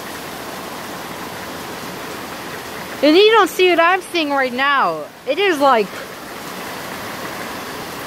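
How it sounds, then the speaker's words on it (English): Heavy rain pouring down in a constant dense hiss that fills the whole scene, steady and loud, with a person talking over it for a few seconds in the middle. "Oh, that is a lot of rain."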